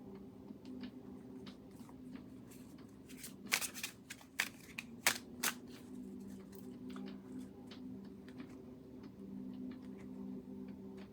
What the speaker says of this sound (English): I'm going to go ahead and shuffle just for you